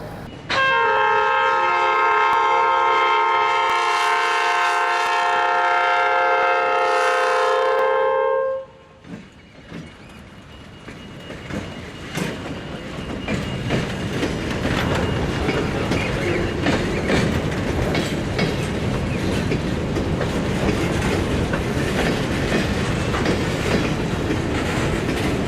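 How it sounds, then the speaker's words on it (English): Freight train led by an EMD SD70ACE with an ES44AC GEVO on the rear: a long, loud multi-chime horn blast, then rumbling engines and clattering wagons rolling past at close range. "Today's train has an EMD SD70 ACE on the point and an ES44"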